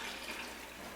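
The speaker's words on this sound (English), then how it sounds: "all we're going to do now is we're going to fill this up with more water" Tap water running steadily into a pot of beef bones for broth, a soft continuous rushing splash heard faintly and up close with no voices.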